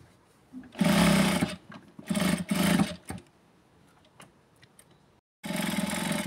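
A sewing machine runs in loud, close bursts while stitching a seam on a blouse, several runs of about a second each separated by short pauses and quiet clicks, then starting again.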